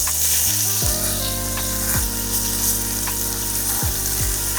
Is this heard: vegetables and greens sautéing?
yes